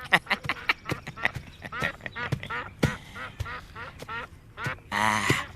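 Whistling duck (meliwis) calls ring out in a rapid, uneven string of sharp, harmonic squeaks and quacks at close range, ending in a louder, harsher burst, with faint voices in the background.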